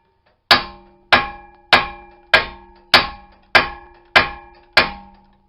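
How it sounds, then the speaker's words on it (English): A hammer strikes the steering knuckle of a 2005 Toyota Sienna during front wheel bearing work: eight loud, evenly spaced metallic clangs, each ringing briefly before the next. "normally you just gotta kind of beat on the knuckle a little bit, and it should release it."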